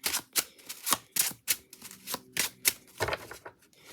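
Tarot cards are shuffled nearby in quick repeated bursts, with rapid crisp slaps and riffles coming in a steady, uneven rhythm, with no voices.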